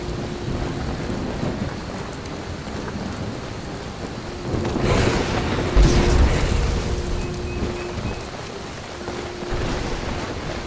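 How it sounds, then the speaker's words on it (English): Steady heavy rain pours down in a Skyrim game world, with a deep rumble of thunder swelling in the middle and fading back into the constant downpour. "It is raining, because when did it ever not rain?"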